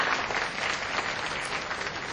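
A seated audience claps warmly to thank a visiting professor after his talk, the applause steady and even throughout, moderately loud with no voices over it.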